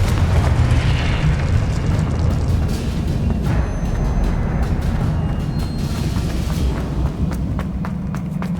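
A Confringo blasting spell erupts in Hogwarts Legacy as a loud, sustained explosive roar with rumbling booms and scattered crackling bursts, running unbroken for several seconds.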